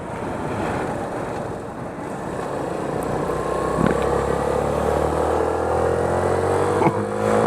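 A Suzuki-style Van Van 125 single-cylinder motorcycle held at full throttle, a steady, rising engine drone close by with heavy wind rush over the rider's microphone.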